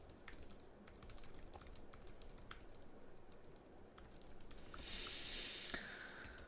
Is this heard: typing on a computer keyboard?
yes